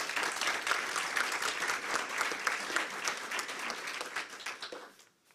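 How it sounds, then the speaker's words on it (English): Audience applause at a veterans' home and community services event in Mechanicsville, Virginia: steady clapping from a crowd that holds for several seconds, then tapers off and fades to quiet at the end. "Round of applause, please."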